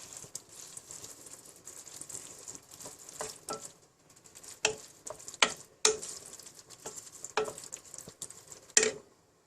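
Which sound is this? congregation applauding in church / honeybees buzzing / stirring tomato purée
stirring tomato purée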